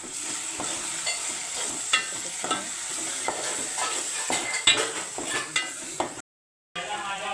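Spices, including garam masala, being stirred together in a hot pan: a continuous sizzle with frequent scrapes and clinks from the utensil, close and fairly loud, with one brief dropout near the end and no voices.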